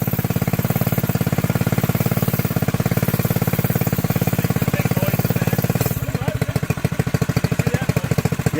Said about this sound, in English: Do you hear any rattling in the front? I think it's the gas tank.